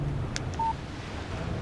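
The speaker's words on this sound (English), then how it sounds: "Text message from Barry." Short electronic phone text-message chime from the video game Alan Wake, a brief bright tone over a steady background hiss of wind and ambience.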